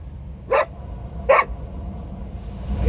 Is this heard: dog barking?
yes